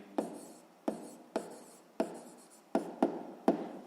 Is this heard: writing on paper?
yes